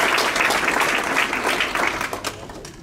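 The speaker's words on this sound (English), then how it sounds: "Let's give our Board of Education another round of applause." An audience at a school district staff awards ceremony claps for the Board of Education, a full burst of applause that gradually thins and fades over a few seconds.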